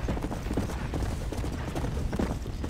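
Horse hooves clip-clop steadily in the Red Dead Redemption video game, several horses trotting in a busy, continuous rhythm that fills the whole stretch at moderate loudness with no talk over it.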